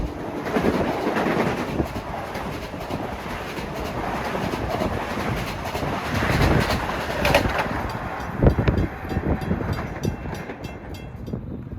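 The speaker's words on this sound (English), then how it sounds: "here comes a Ronkonkoma flyer right now" A Long Island Rail Road Ronkonkoma express train rushes through Bethpage, a loud, close roar of wheels and rail clatter that swells and then fades, with birds chirping faintly.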